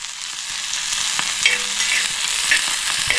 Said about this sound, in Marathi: तेल पण आपण फार असं घेतलं नाही ना कांदा परतून घेते